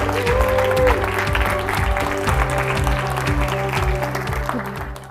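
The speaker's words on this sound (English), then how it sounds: "what you would do for me right now is that you would clap your hands," An audience at a speaker showcase event applauds loudly and steadily for several seconds, with dense clapping and a few cheers, while a low voice or music murmurs underneath.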